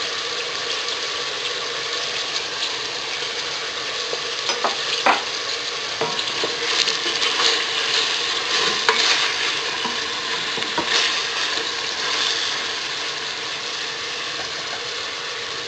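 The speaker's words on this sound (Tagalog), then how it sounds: "ihahalo muna natin dito yung salt and yung ground black pepper" Braised beef is stirred with salt and ground black pepper in a pan, giving a close scraping, clattering stir over a soft sizzle, with irregular spoon knocks and no talking.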